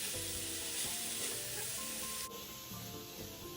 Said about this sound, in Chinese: 炉转高火，将萝卜与其他食材一起快炒。